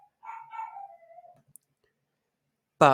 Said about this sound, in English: apologies if you can hear a dog in the background